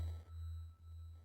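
A sine wave from a Nord Micro Modular synth with its sample rate reduced, a steady low digital hum that swells and dips twice, faint and alone.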